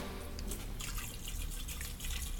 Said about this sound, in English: pour the water on it.